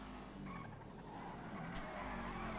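In a video game, a car drifts with a sustained engine drone and a long tire squeal that carries steadily throughout.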